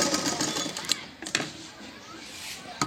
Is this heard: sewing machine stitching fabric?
yes